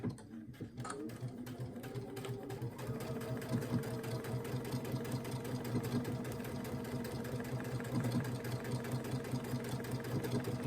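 A Luminaire sewing machine darns fabric with a buttonhole foot, sewing a heavy stitch in a steady, continuous mechanical whir that runs close and even for the whole stretch with no talking.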